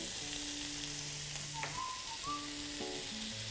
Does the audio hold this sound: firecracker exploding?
no